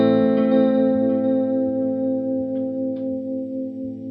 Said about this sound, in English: Even the tone of the guitar is darker. So it's not necessarily a nice clean delay.